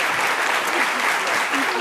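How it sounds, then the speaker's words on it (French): A stage-show audience applauds loudly and continuously, a dense, even wash of clapping that holds steady at full strength throughout. "Maryse Acotier, merci de l'applaudir très fort."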